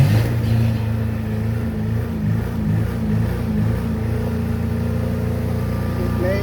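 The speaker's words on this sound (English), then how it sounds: "All right, let's start generator." A boat generator engine running during marine fuel filter maintenance, a loud, steady, low mechanical drone with even pulsing throughout, faintly rising in pitch near the end.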